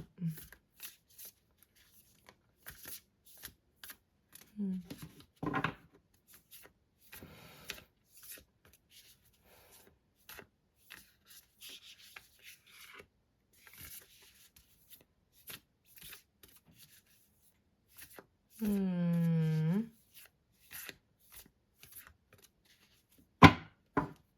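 A deck of tarot cards is handled, giving soft, scattered rustles and taps, then one longer riffle shuffle near the end, all faint and close, with occasional quiet speech between the sounds.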